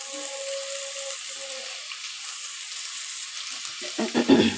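Vegetables frying in a pan with salt for chow mein, giving a soft, steady sizzle close by with a faint background hum, then a few clattering stirs near the end; no talking.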